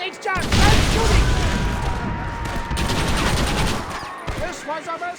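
Dense gunfire crackles in Red Dead Redemption, rapid overlapping shots and booms close by in a sustained fusillade, with shouting voices over the firing.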